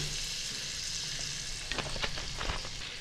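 Butter and white oil sizzle steadily in a hot wok, a constant close frying hiss with a few light clinks and stirring taps toward the end.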